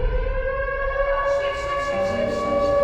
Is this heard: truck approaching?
no